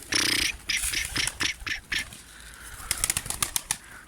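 Pigeons flap their wings in quick bursts of fluttering, some close and loud, with a few faint calls.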